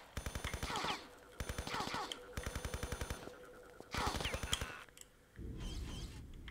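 Rapid bursts of automatic gunfire in the Tomb Raider Chronicles video game, several clipped volleys of sharp repeated shots with short pauses between them, ending in a steadier rattle.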